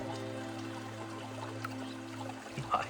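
Cold spring water gushes steadily in a creek near its headwaters, a continuous close rushing flow with a faint splashy burst near the end.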